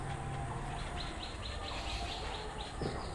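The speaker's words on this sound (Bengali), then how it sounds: "বন্ধুরা, সুন্দর সুন্দর পাখিগুলো দেখতে পাচ্ছেন গড়িয়া পাখিরহাটে।" Small finches, including zebra finches, chirp in quick repeated bursts at the busy Garia bird market, a steady layer of tweets over loud crowd noise and market bustle.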